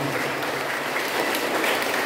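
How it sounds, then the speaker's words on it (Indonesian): A congregation at a Christmas Mass claps steadily, dense and continuous applause filling the whole moment without pause. "Mari kita tepuk tangan untuk kesuksesan kita semua."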